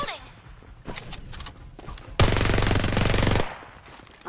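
Automatic gunfire in the battle royale shooter Farlight 84, a dense, loud burst of rapid shots lasting about a second, preceded by scattered lighter game sounds and footsteps.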